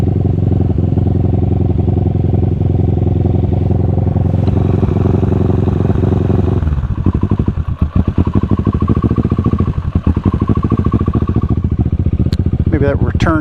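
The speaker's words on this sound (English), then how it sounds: "It's never a good thing when your throttle's racing." A Kawasaki Ninja motorcycle with an erratic, racing idle runs steadily and close, then its engine note drops and turns rougher and choppier with clattering pulses partway through, with some mechanical handling noise near the end.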